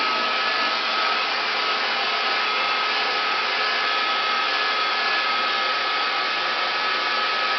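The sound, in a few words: small hair dryer blowing hair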